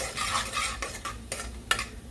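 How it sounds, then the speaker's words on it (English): A tablespoon of garlic stirred in a pan for Alfredo sauce, with soft sizzling and a few sharp utensil scrapes against the pan, no voices. "I'm going to put a tablespoon of garlic. And then I'm going to just stir that up."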